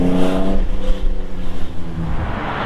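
A 1991 Mercedes 300SL R129 engine blips sharply during a heel-toe downshift, a quick rising rev that drops away and settles into a rougher, uneven idle-level rumble, heard close and loud.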